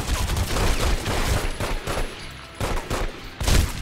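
Repeated bursts of shotgun fire in The Godfather video game, loud booming blasts in irregular clusters with short pauses between volleys, no talking.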